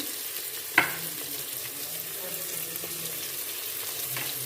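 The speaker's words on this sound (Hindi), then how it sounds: "अब इसमें हम लीमू और ये हरी मिर्च डाल देंगे और इसको हम फ्राई कर लेंगे" Lemon and green chillies frying for pulao, giving a soft, steady sizzle close by with a sharp utensil clink early on and light stirring noises.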